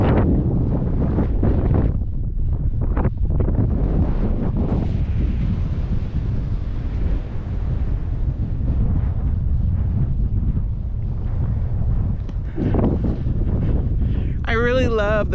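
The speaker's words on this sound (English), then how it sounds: "It's quite windy." Strong desert wind buffets the microphone in continuous, loud rumbling gusts for the whole stretch, with brief sharper bursts near the end.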